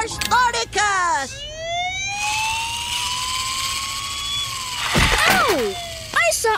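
Toy police car siren in a cartoon, a rising and falling electronic wail with sweeping pitch glides, fairly loud and up front, with brief cartoon voice sounds at the start and end.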